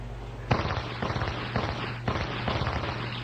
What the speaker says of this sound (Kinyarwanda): n'amasasu bikurikirana